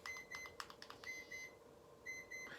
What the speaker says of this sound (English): something's beeping in my office